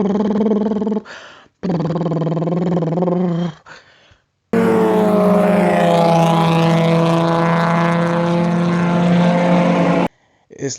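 A Nissan 350Z exhaust fitted with aftermarket headers, loud and close, with short revving bursts followed by a long sustained rasping drone that swells and holds, then cuts off abruptly.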